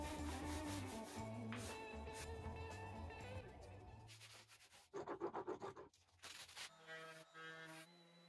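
Sanding wood on a cabinet build, with a thin spatula placed underneath to guard the adjoining part, giving bursts of rubbing, scratchy friction that start and stop irregularly, close and fairly quiet.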